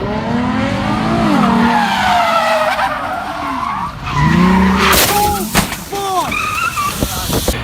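A 600 WHP Nissan 370Z Nismo race car accelerating hard past a Mustang in fifth gear, loud engine sweeping upward with tyre squeal and skidding, its pitch rising and falling in waves, sharp bursts near the end, with speech underneath.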